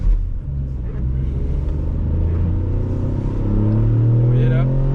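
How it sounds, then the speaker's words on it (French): Ford Fiesta ST with a 200 hp engine, accelerating gently from inside the car as a low, close rumble builds slightly toward the end. "Vous voyez là, il accélère quand même un peu. Voilà, j'accélère un peu. C'est un petit son quand même"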